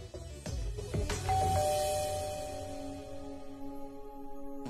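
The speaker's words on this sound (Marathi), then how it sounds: "दरवाजा उघडा आहे तरी बेल वाजवत आहेत." A household doorbell rings with a clear two-tone ding-dong chime that sustains and slowly fades, heard close with a few soft knocks or movements before it and no talking.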